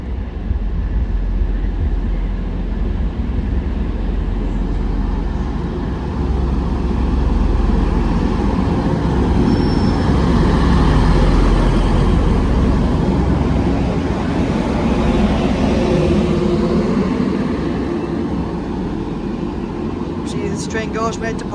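A train pulls into Dewsbury station on a service to Manchester Airport, a loud, sustained low rumble that swells and eases over about twenty seconds, with a brief high squeal near the end.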